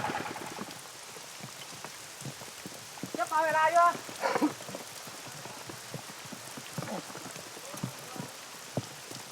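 Monsoon rain patters on a surface with scattered, irregular drops and splashes, fairly quiet, with a brief chirping sound partway through.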